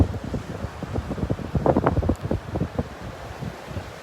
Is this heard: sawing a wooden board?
no